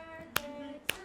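Two sharp, isolated hand claps ring out about half a second apart, fairly quiet against a faint sustained tone in the background.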